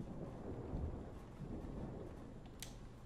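Storm in Life is Strange, a faint low rumble of thunder and gusting wind with a dull roaring bed, quiet and distant throughout.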